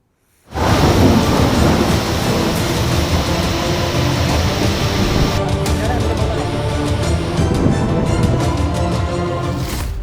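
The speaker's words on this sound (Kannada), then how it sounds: "ಬಿಟ್ಟು ಬಿಡದೆ ಸುರಿಯುತ್ತಿರೋ ಮಹಾಮಳೆ" Heavy monsoon rain pours down in Karnataka in a loud, continuous roar, with deep thunder rumbling throughout.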